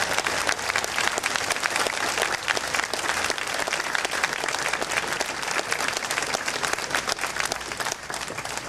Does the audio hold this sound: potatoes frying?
no